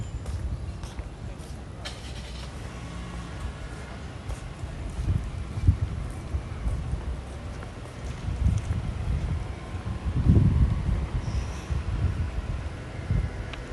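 Chilly wind blows outdoors during a temperature of about 30 degrees, a steady low rumble of wind buffeting the microphone, with occasional stronger gusts while a person talks over it.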